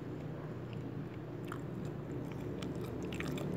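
Biting and chewing into a hard, cheap bakso meatball, with faint crunchy crackles in close, steady mouth sounds and no talking.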